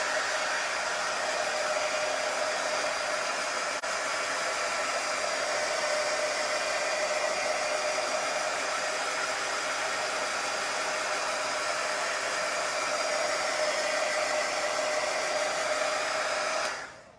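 A hair dryer drying paint on a plaque blows a steady, loud whooshing roar without a break for over sixteen seconds, then cuts off abruptly at the end.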